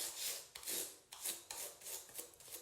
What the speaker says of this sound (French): Et avec une brosse et brosse pour les ongles, simplement vous les brossez.